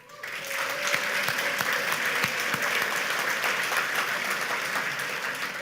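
Warm, sustained applause fills a banquet hall at the 73rd Shinnen Enkai New Year's banquet, rising quickly into steady clapping from a large seated crowd that continues evenly without pause.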